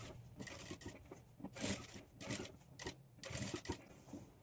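Sewing machine stitching scallop-edged blouse sleeves over a cut-work design, in short uneven bursts of whirring and rasping stitches with brief pauses between, close and moderately loud.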